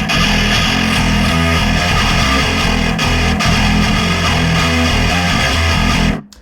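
A metal track built in Ableton plays dense, distorted guitars over driving drums at a loud, constant level, with no talk, and cuts off abruptly near the end.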